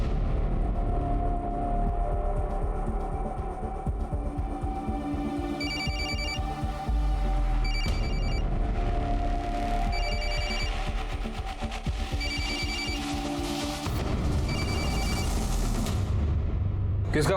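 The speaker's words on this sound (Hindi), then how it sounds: "किसका फोन है?" A mobile phone rings inside a house during a police search in a crime drama. It gives several short, bright ring bursts repeating at regular intervals, over a low background rumble.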